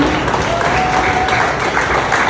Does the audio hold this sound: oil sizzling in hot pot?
no